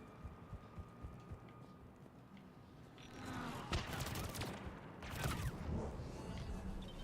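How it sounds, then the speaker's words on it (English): Gunfire rattles in Mass Effect 3 multiplayer, faint scattered shots at first, then denser bursts of fire and impacts building in the second half over a low background hum. "Who keeps shooting me?"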